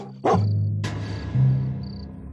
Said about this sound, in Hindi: उन पर एक कुत्ता भौंकने लगता है